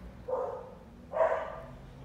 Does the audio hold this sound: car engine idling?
no